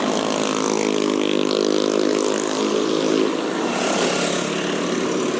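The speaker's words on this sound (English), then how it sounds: "I don't understand why motorcycles need to be so noisy" Loud, steady motorcycle engine drone with a broad roar, running continuously close by, no talking.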